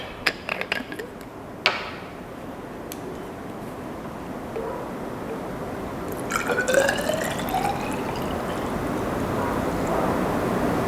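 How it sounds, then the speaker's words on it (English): Hydrogen peroxide poured into a 100 cm3 glass beaker, with a few glassy clinks and knocks at first, then a steady, soft liquid pouring hiss that rises slightly and carries on to the end. "we'll place around 50 cm3 of Fa1, which is your hydrogen peroxide, into a 100 cm3 beaker."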